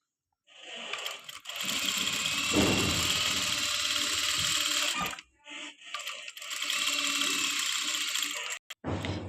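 An electric sewing machine stitches the cuff of a salwar, running in a steady, loud whir for several seconds, pausing briefly, then resuming with a few short stops and starts near the end.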